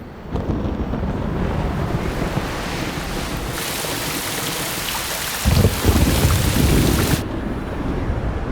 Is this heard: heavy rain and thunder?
yes